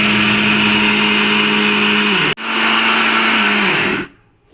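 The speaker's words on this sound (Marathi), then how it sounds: "हे मिक्सरला वाटून घ्यायचंय" A kitchen mixer grinder whirs loudly and steadily as it grinds sieved flour, then briefly stops and starts up again for a second run before spinning down.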